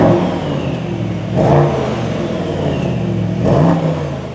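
A Mercedes-AMG S 63 E Performance with a bi-turbo 4-litre V8 revs loudly and close by, two sharp throttle blips rising out of a steady idle rumble.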